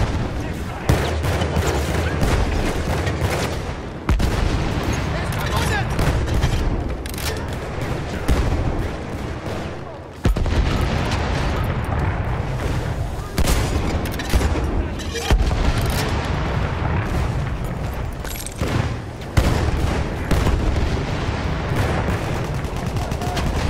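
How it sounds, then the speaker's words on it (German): Battlefield 1 multiplayer combat with dense, continuous gunfire and booming blasts, including a grenade explosion amid the chaos, loud and sustained throughout with occasional sharp bursts. "Ich werfe eine Granate!"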